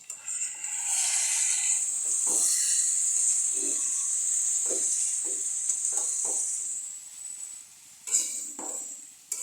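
Kosha mangsho, spiced meat, frying in a pan with a steady bright sizzle that runs nearly throughout, with faint clatter and stirring knocks underneath and a brief flare near the end.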